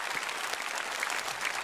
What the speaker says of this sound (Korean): 2020년 우리에게 새해를 허락하신 하나님께 감사와 영광의 박수를 돌려드립시다.